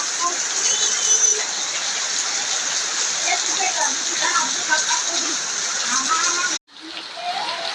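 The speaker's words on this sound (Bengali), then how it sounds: "সকালবেলায় বৃষ্টি আছে।" Steady morning rain hisses loudly and continuously outdoors, a dense even wash of falling drops that cuts out for a split second before resuming; no speech over it.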